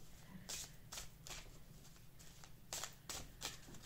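Oracle cards are shuffled by hand, producing a string of crisp riffling bursts at a close distance over a soft background.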